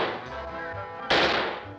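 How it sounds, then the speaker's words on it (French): A gunshot in a 1966 French comedy film: a sharp, loud crack bursts out near the end of a short stretch of background rumble and murmur. "c'est eux qui tirent en ce moment"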